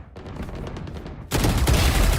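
Rapid gunfire bursts from a Valorant match, a lighter volley at first and then a loud, dense stretch of sustained shooting in the second half, with no talk.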